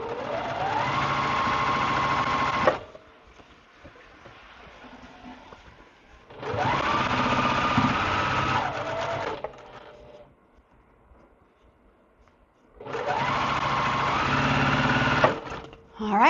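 A home sewing machine runs in three sustained bursts while stitching quilt block seams, each a steady motorized whir lasting a few seconds, separated by quieter pauses with faint handling of the fabric.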